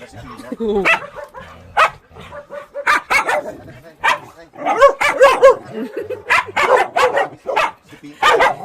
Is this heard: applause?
no